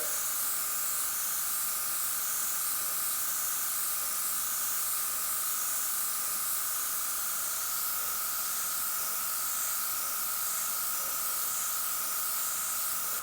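An airbrush sprays violet paint, blending it over a repaired area: a steady, close, continuous airy hiss that holds at an even level for the whole clip, with no talking.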